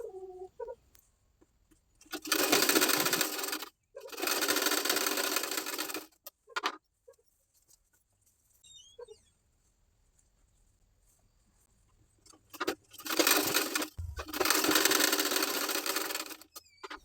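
A sewing machine stitches back tucks on a plain blouse in four loud runs, in two pairs separated by a long quiet gap, with faint clicks between them.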